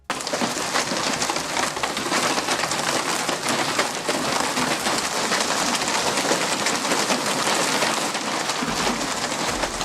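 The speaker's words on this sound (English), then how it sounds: "Hailstones crash into a residential area in Cardston" Hailstones pelt a residential area in Cardston, a dense, loud, continuous clatter and hiss of ice striking roofs and ground throughout, with no voices.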